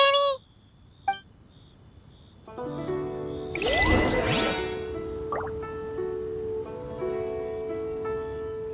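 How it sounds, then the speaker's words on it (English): A cleansing bell rings in the video game Genshin Impact: soft chimes, then a bright swelling shimmer with a sweep, then sustained ringing tones fading over several seconds alongside ambient game music. "Indeed, this is the cleansing bell."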